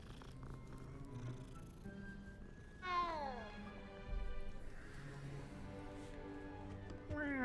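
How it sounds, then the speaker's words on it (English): A cat in the Hogwarts Legacy video game meows in a few drawn-out, rising and falling cries over a steady low purr and faint ambient game background. "Another cat to pet."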